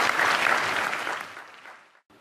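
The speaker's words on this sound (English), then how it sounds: "Let's give them another round of applause." A crowd at a conference performance, following an act by young Mongolian performers, claps loudly at first, then the applause thins and fades away to near silence.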